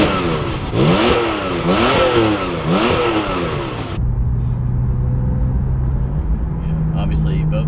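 A Porsche 991.2 Carrera with PDK gearbox and no sport exhaust accelerates hard, its revs climbing in three quick sweeps through the gears before settling into a steady cruising drone with light background noise.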